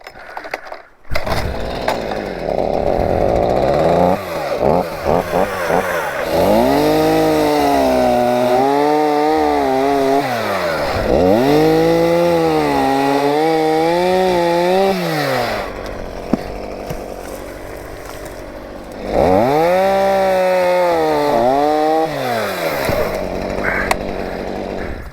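A chainsaw cuts through dense, rotten deadfall wood in bear country, loud and close, with repeated revving cuts that bog and rise, pausing briefly between bursts.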